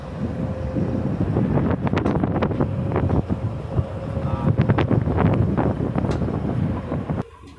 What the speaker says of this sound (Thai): นี่ลม